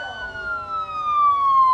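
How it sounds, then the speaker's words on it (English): Police and emergency sirens wail together, several overlapping tones sliding slowly downward and swelling louder toward the end, with no voices. "Our scene fades in with the overwhelming sounds of police sirens and emergency sirens."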